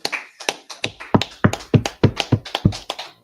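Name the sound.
audience clapping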